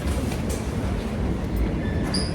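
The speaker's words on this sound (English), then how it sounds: "We're at the subway station, but the N and the W is suspended, and we want to get to Soho." Inside a New York subway station, a train's steady roar and rumble fills the space, loud and continuous, with faint squeals near the end.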